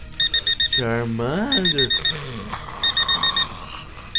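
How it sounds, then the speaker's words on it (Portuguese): An alarm clock in a Minecraft game beeps in quick repeated bursts of electronic tones, loud and near, while a voice speaks over part of it. "o despertador tá tocando"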